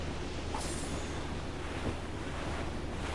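Storm winds and crashing waves at sea in the video game Assassin's Creed Rogue: a steady, dense roar of wind and surf that holds throughout without a break, with no one speaking.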